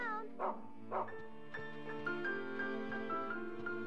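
A dog in the video game Rule of Rose gives two short barks, then a drawn-out whimpering whine with a tonal, musical quality, moderately loud under a quiet backdrop.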